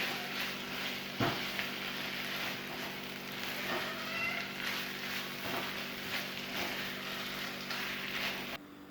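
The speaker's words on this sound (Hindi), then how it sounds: "अब हम इसको मिक्स करेंगे और 1 मिनट के लिए हमने इसको फ्राई करना है" Capsicum fries in a pan for fish spring rolls, giving a faint, steady sizzle with a few light clicks and stirring touches throughout, before cutting off abruptly near the end.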